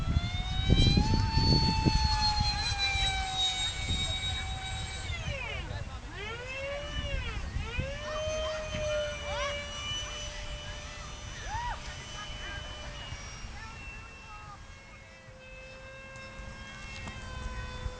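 A remote control jet aircraft with a turbine engine whines loudly, its pitch rising and then sweeping down and up as it passes, with a steady roar beneath and people talking nearby.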